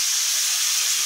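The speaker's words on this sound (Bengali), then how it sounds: "আলু ভাজা আগে বসিয়ে দিয়েছি, এই যে ভাজা চলছে এখন" Potatoes frying in oil in a wok give off a loud, steady, close hiss that runs unbroken through the whole short stretch.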